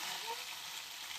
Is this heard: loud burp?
no